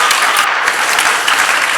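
A school audience at a college debate event claps loudly and continuously, a dense, even wash of applause with no voices standing out.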